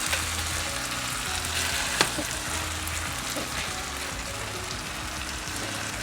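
Ground beef fries in a pan and is pressed down to sear, giving a loud, steady, dense sizzle with one brief knock partway through. No one speaks.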